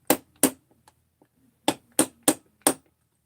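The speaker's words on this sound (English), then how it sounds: "This you're tapping on the crankcase right down to the." Sharp metallic taps of a bushing being driven into a chainsaw crankcase, two quick knocks, a short pause, then four evenly spaced raps, close and crisp with faint clicks between.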